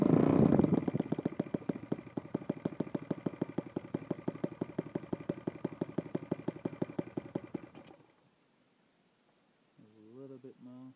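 A Saito FA-72 four-stroke model engine, converted to CDI ignition, idles with a rapid, steady popping beat that runs loud and close, then cuts out around eight seconds, leaving near silence until a brief burst of talking.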